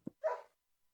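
A dog in the game Minetest gives a single short, clean bark, preceded by a faint soft thump, isolated and quiet.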